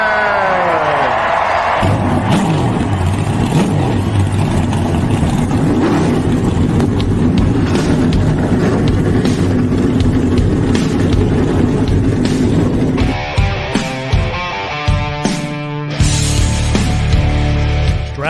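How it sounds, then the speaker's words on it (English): NASCAR race car engines start and rev in a continuous, loud, dense roar with a crowd behind it. Sharper revving sweeps rise and fall near the end. "Driver, start your engine!"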